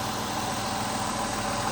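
A repaired Ford Taurus engine idles steadily in a continuous, even hum with a faint mechanical vibration, close by and with no voices.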